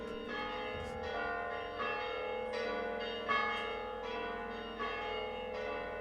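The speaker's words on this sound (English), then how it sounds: "the church bells want to make sure everybody's getting up to go to church" Greek Orthodox church bells ring continuously on a Sunday morning in Syros, Greece, with rich overlapping tones, a steady peal with periodic strikes swelling slightly, fairly loud and without voices.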